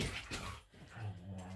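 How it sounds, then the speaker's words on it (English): Dogs playing indoors in a home, with short whimpers and yips over a busy, close rumble of scuffling that rises and falls across a brief stretch. "Dogs are going to play while I'm eating, apparently."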